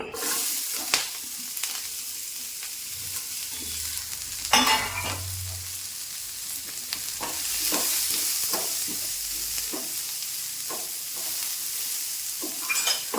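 Egg mixture sautéing in a frying pan with a little coconut oil for muttayappam, steady close sizzling throughout with repeated spatula scrapes and stirring knocks at irregular intervals.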